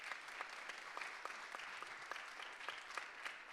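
A round of applause from an audience at a mental health workshop, steady continuous clapping with a few distinct sharper claps standing out at a regular pace, moderately close and without talk.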